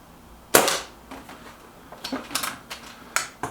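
A Reximex Ixia Compact air rifle fires one sharp, close crack, followed by fainter mechanical clicks and ticks.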